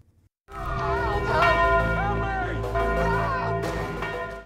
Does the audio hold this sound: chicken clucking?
no